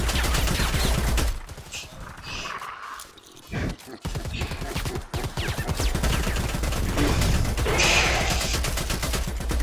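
Rapid gunfire tears through computers in a first-person shooter fireteam match, with dense bursts of shots that keep coming while a voice talks over them.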